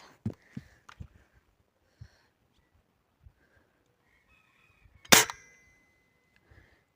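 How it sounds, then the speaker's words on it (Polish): A single sharp pellet-pistol shot cracks out, loud and close, after a few faint clicks and taps of handling in an otherwise quiet outdoor setting. "pierwszy strzał się udał"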